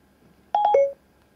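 A Bose SoundLink Mini II Bluetooth speaker gives its voice-dialing prompt tone: three quick electronic beeps, the last held slightly longer, clear and close against near silence.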